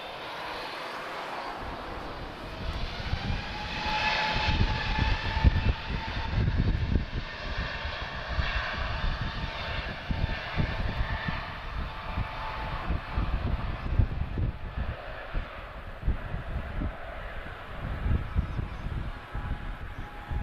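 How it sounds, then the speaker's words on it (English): Smaller jet on approach to Lisbon Airport, a broad engine roar that swells and stays loud with a whining tone shifting across it as the aircraft passes overhead, with no voices. "We've got a smaller jet on the approach, so it's not all about the Airbuses and the heavies here."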